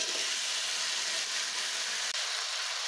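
Potatoes frying in oil in a kadai after the spice tempering in a Bengali home kitchen, a soft, steady hiss of sizzling with no talk.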